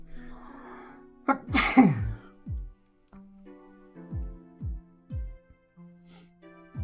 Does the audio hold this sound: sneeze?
yes